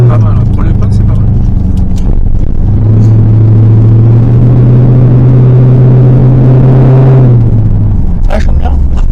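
A rally car's engine accelerating, heard from inside the cabin as a loud rising drone that holds steady then drops off, with a deep rumble throughout and talking at the start and end.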